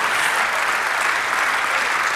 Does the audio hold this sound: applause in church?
yes